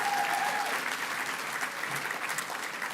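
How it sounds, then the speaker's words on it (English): Applause fills a hall at a Scottish charity awards ceremony, a dense steady clapping from a large audience that continues throughout. "give them another clap"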